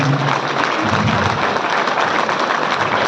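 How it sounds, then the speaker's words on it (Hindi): An audience breaks into loud, dense applause to welcome a guest at a public gathering, the clapping steady and close throughout, with a brief voice or tone at the start. "जोरदार तालियों के साथ उनका अभिवादन और स्वागत कीजिए।"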